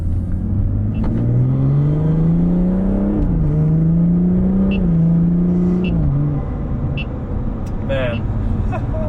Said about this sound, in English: every downshift that gives off like 2 little pops